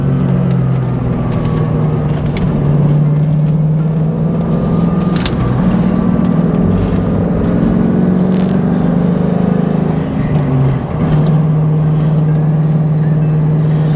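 A car is driven fast through the curves of Arkansas's Pig Trail Highway 23, from Turner Bend toward the Overlook. Its engine drones loudly and steadily from inside the cabin, the pitch rising and falling through the corners.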